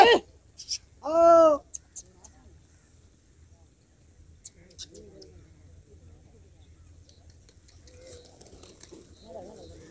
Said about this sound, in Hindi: ये जो सामने कबूतर नजर आ रहे हैं